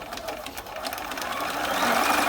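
A Bernina 1130 sewing machine stitches a zigzag in a fast, even run of needle clatter, close and alone, with no talking and a slight rise in loudness toward the end.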